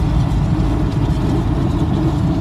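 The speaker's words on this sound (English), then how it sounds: "you see that truck over there, I thought, like, you hear that noise" A truck engine idles nearby outdoors, a steady low rumble with broad noise that holds level and unchanging for a couple of seconds, with no voices over it.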